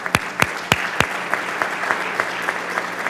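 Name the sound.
applause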